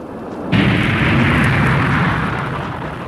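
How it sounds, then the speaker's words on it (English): Rocket jets firing at takeoff in a radio drama, a sudden loud roaring blast that starts abruptly and holds as a dense sustained rumble, slowly easing toward the end. "All jets firing."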